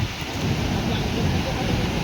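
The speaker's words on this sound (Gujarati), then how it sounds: "આમ જો ફૂલ વરસાદ છે અત્યારે." Dense, steady wash of heavy cloudburst rain amid flooding, loud and close, with no breaks and a low rumbling undertone.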